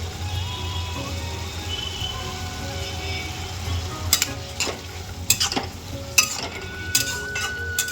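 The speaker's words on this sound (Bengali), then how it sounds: "এবার চিংড়ি মাছটা দিয়ে খানিকক্ষণ নেড়ে নামিয়ে দেবো।" Bottle gourd and shrimp cook in a black kadai with a soft, steady sizzle, joined in the second half by several sharp scraping stirs of a utensil against the pan.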